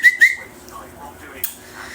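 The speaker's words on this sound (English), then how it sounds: "It's just me whistling, okay?" A person whistles two short, sharp high notes near the start, followed by faint, softer whistled tones and a brief breathy burst, close to the listener with no talk over them.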